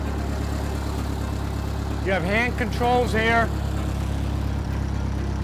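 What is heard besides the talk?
1912 Mercer Raceabout engine running on magneto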